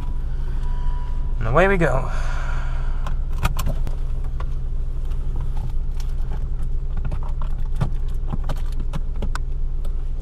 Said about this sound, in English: Car started.